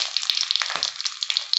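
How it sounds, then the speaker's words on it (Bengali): Two dried red chillies fry in hot oil with bay leaf and cumin, giving a close, continuous sizzle dotted with small crackles and a couple of soft pops. "তারপর দুটো শুকনো লঙ্কা দিচ্ছি।"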